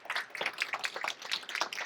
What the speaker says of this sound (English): we'll have another round of applause